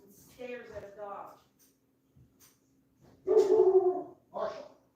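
A dog barks in a street, a few short sharp barks in a clear burst later on after an earlier rougher yelp, with a steady low hum underneath and quiet stretches between.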